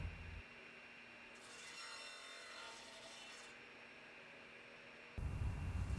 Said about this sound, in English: Here I'm cutting the finger joints on a homemade sled on the table saw.